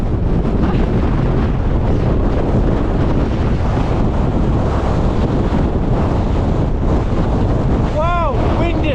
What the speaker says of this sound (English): Wow, windy.